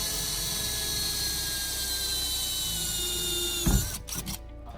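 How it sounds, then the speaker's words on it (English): A power drill whines steadily for several seconds, pre-drilling through a van's metal body with just the drill bit, then stops abruptly with a few clunks and rattles as it finishes. "we are going to pre-drill with just the drill bit"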